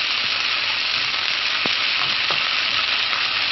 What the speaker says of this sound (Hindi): अच्छी तरह इसको फ्राई करते रहें।